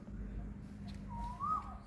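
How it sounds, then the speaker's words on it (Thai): Faint outdoor ambience, then one clear rising bird whistle near the end, soft and somewhat distant. "นี่เสียงนก"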